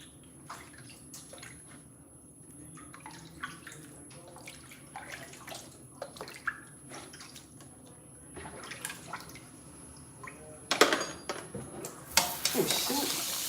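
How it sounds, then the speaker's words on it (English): A water spray is left running in a kitchen during cooking, making soft, irregular splashes and drips that swell into a louder, hissing gush near the end. "I forgot to turn the doggone spray off, y'all."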